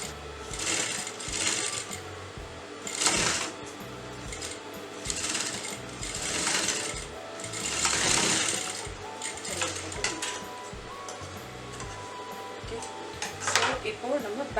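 A sewing machine runs in repeated bursts while stitching a half collar onto a garment neckline, close and steady with brief pauses, and someone talks over it.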